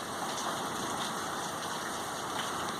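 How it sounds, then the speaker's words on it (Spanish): Steady rain falls outdoors near some garden plants, a continuous close hiss of drops with no voices. "Mire, mire cómo está lloviendo."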